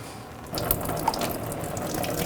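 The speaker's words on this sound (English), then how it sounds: "Just grab the hose, give it a wiggle. Oh, you're gonna lose a little coolant." Engine coolant running out of a disconnected hose on a 2009–2017 Volkswagen Tiguan during knock sensor replacement, a steady close trickle and splash with a few faint metallic clicks.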